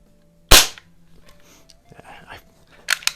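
Crosman 66 Powermaster .177 multi-pump pellet rifle firing: one sharp, loud crack up close, followed by quiet handling and soft murmured speech, then a pair of brief clicks or knocks at the end.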